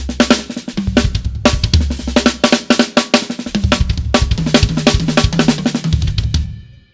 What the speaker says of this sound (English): Bring in the accents.